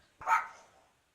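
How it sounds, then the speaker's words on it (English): A frightened dog, startled by a knocked-over plant pot, gives a single sharp bark close by, followed by a brief fading tail and silence. "Can you see she's barking and she's scared?"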